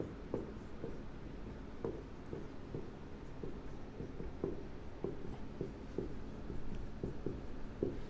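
Handwriting with a pen during a maths lesson on lines and angles: steady soft scratches and taps of strokes repeat throughout at a regular pace, close by, over a constant low background hum, with no talk.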